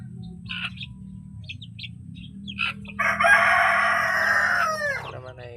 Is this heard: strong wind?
no